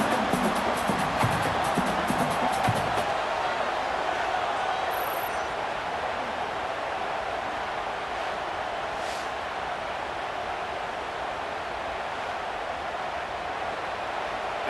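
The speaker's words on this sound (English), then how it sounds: "this crowd trying to help keep them there" Steady roar of a stadium crowd in NCAA Football 26 during an Oregon Ducks franchise game, a continuous broad wash of cheering noise holding level throughout, with some low thumping in the first few seconds.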